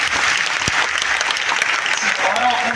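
A crowd at a Bageshwar Dham gathering honoring President Droupadi Murmu breaks into loud, continuous clapping that holds steady throughout, with a voice partly audible beneath it.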